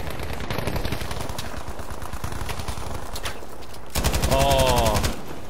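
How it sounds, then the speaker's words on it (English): Rapid automatic gunfire in a multiplayer shooter game, a continuous clattering barrage with a louder close burst near the end and brief talk over it. "I unloaded like 30 rounds and I hit him with 3"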